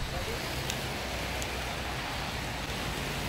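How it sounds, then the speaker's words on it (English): Rain falls outdoors during a ham radio weekend outing, a dense, even hiss of drops that stays constant and fairly loud throughout, with a few faint clicks on top. "It's raining."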